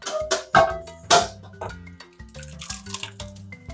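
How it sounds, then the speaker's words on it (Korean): Water poured through a sieve while straining liquid for Korean radish water kimchi, uneven splashing and dripping pours in a kitchen, close and moderately loud with no talk. "물1리터를 넣어서 걸러볼게요"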